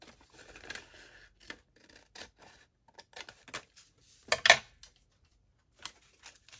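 Scissors snipping paper to shape a junk journal pouch, a quiet close series of short irregular cuts with one louder crunch of blades near the end.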